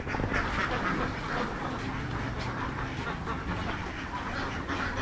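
Dense, continuous quacking from a large flock of ducks, about 3,000 birds on a poultry farm, fills the whole stretch with overlapping calls and a few clucks mixed in.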